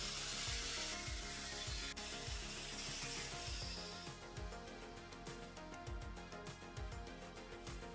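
A steady grinding drone of a drill bit working through a Nissan X-Trail fuel component, loud and continuous, with rhythmic scraping pulses in the second half.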